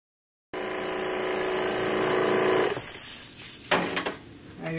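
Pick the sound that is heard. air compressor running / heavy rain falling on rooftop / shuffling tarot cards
air compressor running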